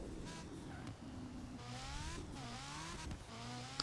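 A B-class car races in the open-world driving game Forza Horizon 4. The engine revs rise and fall continuously at close range as the car accelerates and shifts through gears, with no speech over it.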